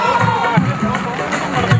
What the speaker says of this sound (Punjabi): ਮਾਲਵੇ ਦੇ ਨਾਮ ਦੀ ਇੱਕ ਵਾਰ ਜ਼ੋਰਦਾਰ ਤਾੜੀ ਮਾਰ ਦਿਓ